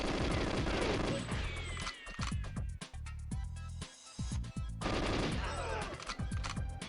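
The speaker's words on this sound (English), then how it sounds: "more shooting, more blasting, more killing these dudes" Rapid automatic gunfire from GoldenEye 007 on the Nintendo 64, bursts of sharp shots over game music, with short pauses and single blasts in the middle before heavy firing resumes.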